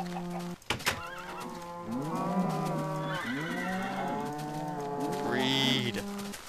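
Cows moo in the video game Minecraft, several drawn-out, overlapping calls following one another, loud and close, with a brief sharp knock near the start.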